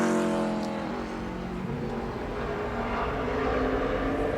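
A Duraflame Dodge NASCAR stock car driven by Billy Parker for Rusty Wallace's team laps a racetrack, its engine roaring steadily with a Doppler-like pitch drop early on, loud and continuous with no voices.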